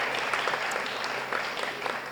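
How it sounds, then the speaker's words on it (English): Steady audience applause for staff members at a school moving-on ceremony for eighth graders, a continuous dense wash of clapping from many hands throughout. "we'll give you a round of applause"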